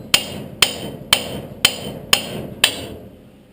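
Six sharp, evenly spaced hammer blows ring out close up as old wheel studs are driven from a 1978 Toyota pickup hub, each metallic strike decaying briefly before the next.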